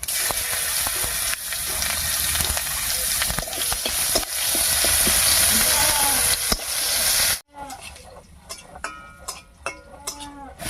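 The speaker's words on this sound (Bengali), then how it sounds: "এবার এই মাছ ভাজা তেলের মধ্যে ফোড়ন দেবো আর ফোড়ন দেবো হাফ চামচ গোটা জিরা দুটো তেজপাতা আর একটা পেঁয়াজ কুচি দিয়ে" Whole cumin, two bay leaves and chopped onion crackle and sizzle in oil left from frying fish, a loud dense hiss with popping and stirring scrapes that stops abruptly, followed by sparse quieter clicks.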